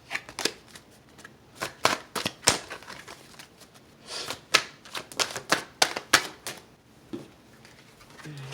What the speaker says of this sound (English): Cards are falling all over the place